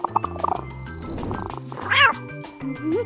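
A pet cat in a house-building video game meows twice in quick, rising cries over steady, upbeat game music, clear and close.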